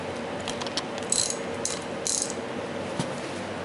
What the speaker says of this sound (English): I use a specific socket that this 12 point, they tend to be thinner walled, and is able to squeeze in past the opening in the crank to tighten that down